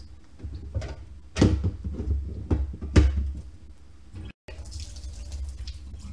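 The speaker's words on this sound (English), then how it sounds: "You take and drain the water out of the turkey" Water from canned turkey being drained off into a sink, with a wet splashing pour and a few clunks of the can and lid, fairly close with no talking.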